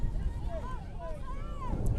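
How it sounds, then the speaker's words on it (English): Wind buffeting the microphone at an outdoor girls' high school soccer match in Edinburg, Texas, a constant loud low rumble throughout, with a voice talking over it. "Right now it's about 82 degrees and windy. Super windy."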